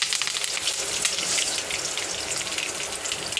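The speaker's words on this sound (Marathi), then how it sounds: "वरून मिरची टाकलेली आहे बघा कशी उडते" Chili and curry leaves spluttering in hot oil with urad dal and asafoetida for a cabbage stir-fry, giving a dense, steady crackling sizzle throughout, close and fairly loud with no voice.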